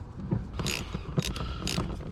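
A ratchet undoes a 6 mm nut on the sunroof tray of a Mercedes ML W163 SUV, giving three short, faint clicking bursts close by.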